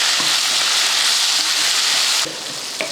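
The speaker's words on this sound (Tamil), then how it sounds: "மல்லித்தலை கூட கொஞ்சமாக புதினாவையும் சேர்த்து நல்லா வதக்கிடுவோம்" Tomato, coriander leaves and mint sautéing in a pan, a steady close broadband sizzle that fills most of the moment before dropping off abruptly near the end, with no talk.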